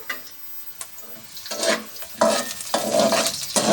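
Onions sizzling and frying in a pan for keema rice, with bursts of stirring scrapes growing louder and denser toward the end; close and steady, no talk.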